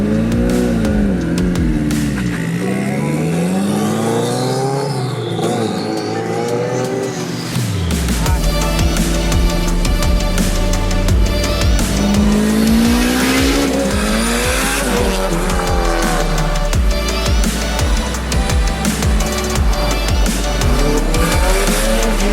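A K-swapped Mazda FD RX7 revs hard and squeals its tires, engine note sweeping up and down through gear changes as loud, sustained tire screech and skidding run close by throughout, with a deep rumble underneath.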